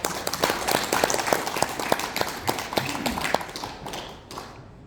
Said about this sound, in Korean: 제 강의가 좋았다면 중간중간에 박수 치셔도